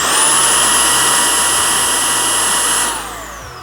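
Milwaukee M18 brushless precision blower running at speed 1 with the small nozzle fitted, a loud steady whine and airy rush held close up for about three seconds before the pitch and volume begin to drop.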